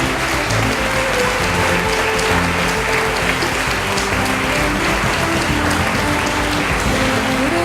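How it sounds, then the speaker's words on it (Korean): A large crowd at a Korean commemorative rally and launch ceremony gives a big round of applause, a dense, sustained wash of clapping that stays loud and even from start to finish. "큰 박수로 우리 서로 격려하십시다."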